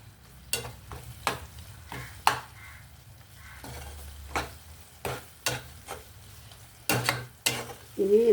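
Native tomatoes cook down in a pan for a tomato and chukkakura curry: sharp, separate stirring clicks and scrapes against the metal over a faint, low sizzle, close and spaced unevenly.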